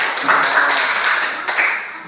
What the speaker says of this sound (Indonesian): Tepuk tangan untuk Kiran